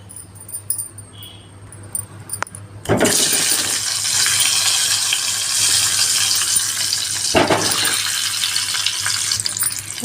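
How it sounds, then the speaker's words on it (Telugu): Eggs frying in hot oil with turmeric and salt hiss into a loud, steady sizzle that bursts in abruptly and holds, close and constant, with a brief stir-like surge near the end; no voices. "దాంట్లో కొద్దిగా పసుపు, కొద్దిగా సాల్ట్ వేసి మనము ఎగ్స్ని కొద్దిగా ఫ్రై చేసుకుందాము."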